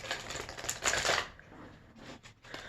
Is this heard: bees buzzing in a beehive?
no